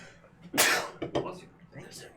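A single sharp sneeze bursts out amid a tabletop role-playing game session, followed by a couple of softer breathy sounds and quiet voices nearby.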